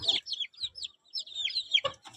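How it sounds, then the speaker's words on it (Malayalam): Young chickens about six weeks old, kept as breeding stock on a poultry farm, give high, soft chirping clucks in quick, scattered bursts, fairly close and faint. "എല്ലാത്തരം കോഴികളും ഇതിനകത്തുണ്ട്"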